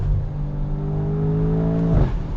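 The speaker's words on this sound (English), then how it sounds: "And that exhaust just sounds incredible." Exhaust of a 2019 Mercedes-AMG S63 Cabriolet under acceleration, a loud, close, deep rumbling roar with rising harmonics that swells steadily and then shifts briefly near the end, with no talking.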